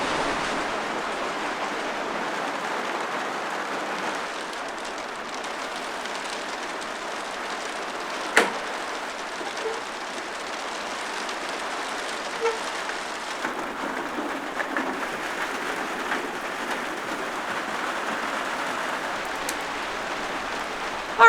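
Steady rain falls without a break during a backpacking trip in New Zealand: a continuous, even hiss of medium loudness, with a couple of brief knocks and no talking.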